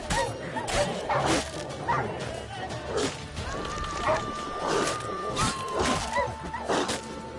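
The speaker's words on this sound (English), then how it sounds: "Fucking dog's doing damage." A rabid dog attacks in Witcher 3 during a snowstorm, giving repeated close barks and yelps with sharp hits and thuds over a constant game ambience.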